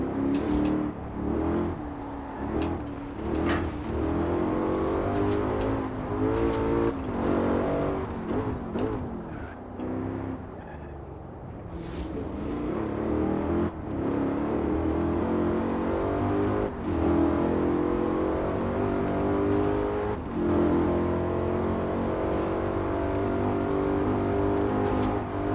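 Ford Mustang GT engine in Forza Horizon 4, heard from the cabin, rumbling and revving steadily for about half a minute with repeated throttle blips and gear changes, loud and close with no talking.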